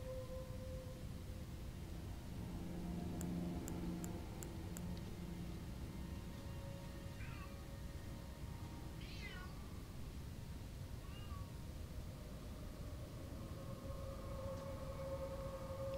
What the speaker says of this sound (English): My cat's just a pain in the butt right now.